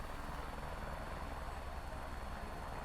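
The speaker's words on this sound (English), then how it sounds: "The chopper, I just got this chopper" A helicopter in a video game set around Salt Lake City gives a steady, dense rotor and engine drone, constant and fairly quiet with no talk over it.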